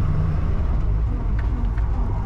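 Engine of a 1967 Pontiac LeMans running at raised revs, a deep, dense low rumble held steady and loud throughout the short stretch.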